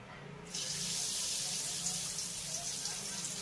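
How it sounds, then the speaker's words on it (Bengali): Motichur gram-flour batter drops hit hot oil and set off a sudden broad hissing sizzle that holds steady and loud, with bubbling frying that continues to the end after a brief quiet start. "এবার আমি একা করে সব মতিগুলোকে ভেজে নেব।"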